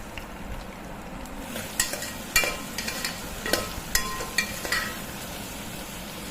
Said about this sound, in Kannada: ಅದಾದಮೇಲೆ ಮೆಣಸಿನ್ಕಾಯಿ, ಈರುಳ್ಳಿನ ಹಾಕ್ಕೋತಾ ಇದ್ದೀನಿ.